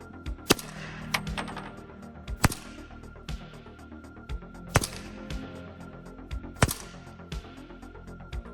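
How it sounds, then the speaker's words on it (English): Suppressed 300 Blackout AR-15 firing subsonic rounds outdoors: several sharp, muffled thumps spaced irregularly about a second apart, with a metallic clack after each and faint ringing between shots. "So now we left the suppressor on there and put 300 subsonic in there."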